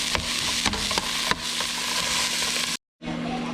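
A spatula scrapes and stirs meat in a frying pan at a lake cabin, with steady loud sizzling and a few sharp scraping strokes, then a brief silent gap before the frying resumes.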